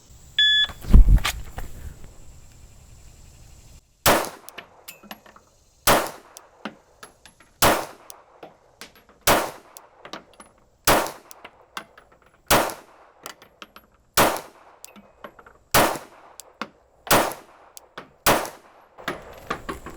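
A Glock 22 pistol fitted with a 9mm conversion barrel fires about ten loud, evenly spaced shots on a range, each with a sharp crack and a short ringing tail.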